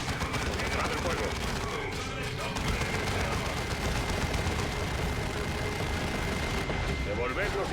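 Dense, continuous gunfire and explosive bursts from a Warhammer 40k: Dawn of War II battle, a steady loud barrage with rattling shots layered throughout and game voices faintly mixed in.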